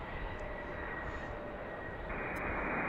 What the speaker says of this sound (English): Got a CRJ headed out to the runway to take off.